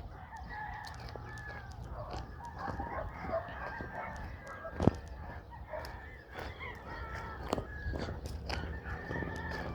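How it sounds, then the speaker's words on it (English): A flock of chickens outdoors on a hike, clucking steadily with roosters crowing now and then, heard from a little distance under footsteps and light background noise. "You can hear all the chickens making all that noise."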